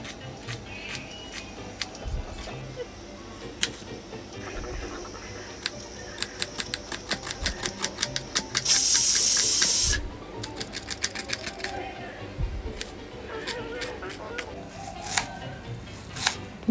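Two large onions chopped finely with a knife, a fast series of sharp taps on a cutting board with quieter stretches in between, plus a brief harsh burst partway through.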